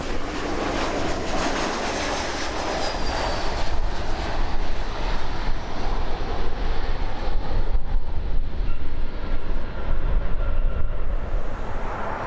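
A Southwest airliner lands at Los Angeles, its jet engines giving a loud, steady roar throughout with a broad rushing noise.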